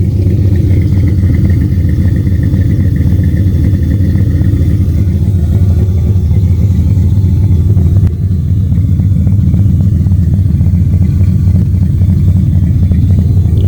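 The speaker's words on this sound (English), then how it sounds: "Sounds like just a regular motor. Don't sound like a turbo car." A boosted LS V8 Camaro with a new exhaust runs steadily, producing a loud, deep, continuous rumbling idle with a throbbing pulse, close up and without any talk.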